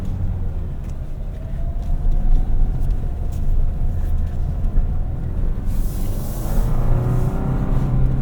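A 2025 Toyota 4Runner TRD Off Road Premium drives slowly over an off-road course, its engine a steady low rumble with road and body noise throughout, swelling slightly toward the end, with no voices.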